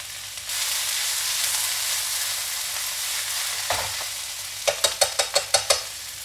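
Yakisoba noodles and vegetables stir-frying in a hot pan, a loud, steady hiss that carries on alone, then dips and gives way to a quick run of sharp spatula taps and scrapes.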